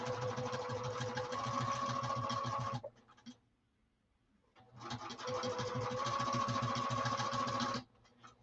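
Sewing machine stitching across the bottom of a saddlebag exterior, heard as two sustained runs of fast, even stitching close up, with a quiet pause between them.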